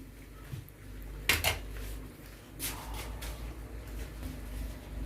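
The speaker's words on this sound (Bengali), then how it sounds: "এগুলো আমি ভালো করে মাখিয়ে নেব" Ingredients mixed by hand in a bowl with coconut milk while cooking at home: soft wet rubbing with a couple of sharp clinks of the bowl around the middle, fairly close, and no talking.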